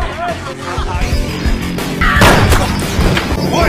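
A loud explosion bursts midway through, a heavy crashing boom over a busy, noisy background, followed by rumbling debris.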